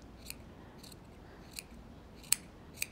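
Scissors trim a yarn pom-pom into a round ball, several quiet crisp snips spaced irregularly over a faint background hiss.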